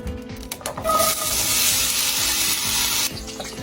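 Seasoned burger patties sizzle in a frying pan, a steady close crackling hiss with a few clinks of utensils at the start.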